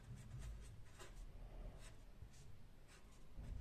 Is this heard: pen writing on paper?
yes